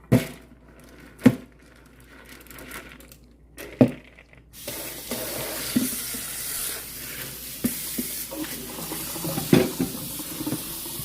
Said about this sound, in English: I rinse it with water.